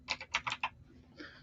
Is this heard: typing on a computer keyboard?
yes